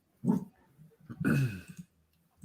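A dog barks indoors as a garbage truck passes outside, two short muffled woofs separated by a pause, fairly faint and close to the microphone.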